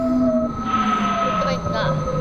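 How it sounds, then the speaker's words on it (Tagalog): An LRT Line 2 train comes into Katipunan Station with a continuous rumble and whining tonal hum. Faint voices and a short station announcement sit under the steady, close rolling noise. "Atas po, may pagating po kayong tren."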